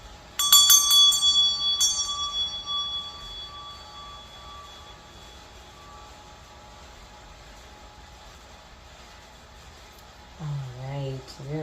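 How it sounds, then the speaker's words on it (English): A meditation bell struck twice in quick succession near the start, its bright metallic ring sustaining and slowly fading over several seconds; a voice begins speaking near the end. "let's go on ahead and ring the meditation bell on this one"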